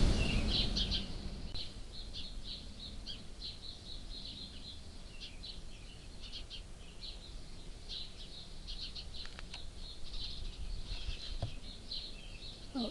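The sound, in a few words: birds calling, fighting in the background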